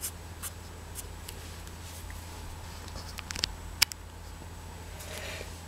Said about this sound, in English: Now here on the top we're going to draw the bow